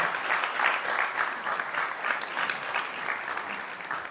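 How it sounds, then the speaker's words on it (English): Conference attendees at a keynote event give a sponsor a warm round of applause, a moderately distant, steady patter of many hands with slight swells, free of speech. "so let's give them a big round of applause"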